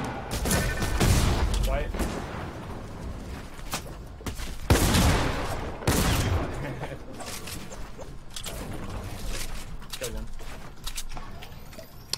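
Grenade launcher blasts go off during a trios arena match in a shooter game, loud thumping bursts mixed with other gunfire, with players talking over the action throughout.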